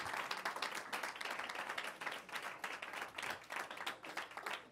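Church audience applauding at a service, brisk and fairly close clapping with a lively irregular rhythm throughout.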